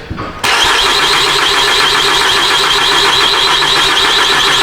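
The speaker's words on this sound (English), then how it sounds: "That'll give me enough time to run in and crank it real quick." A Ford Fusion with burnt-out ECM coil drivers is cranked over but does not start: a loud, steady engine whir begins abruptly after a short quiet moment and holds without change.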